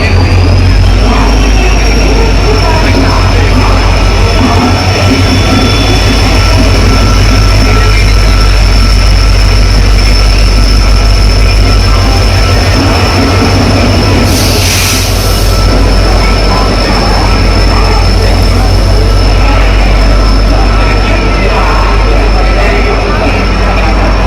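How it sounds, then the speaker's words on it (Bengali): A train pulls in at a platform in Howrah station, a loud, steady rumble and low drone filling the space alongside a sustained high whine, with a brief burst of noise midway and faint voices underneath. "আমাদের ট্রেন ঢুকে গেছে।"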